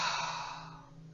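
A single long, slow exhale of a deep cleansing breath during a tai chi and qi gong practice, close and soft, steadily fading over about a second with no talking.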